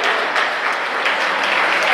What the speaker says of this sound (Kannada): ಚಪ್ಪಾಳೆ, ನಿಮ್ಮ ಚಪ್ಪಾಳೆ ಬಂದಷ್ಟು ಅವ್ರು ತೃಪ್ತಿ ಆಗ್ತದೆ.